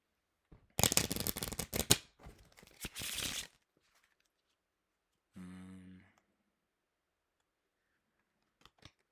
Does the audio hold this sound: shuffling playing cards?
yes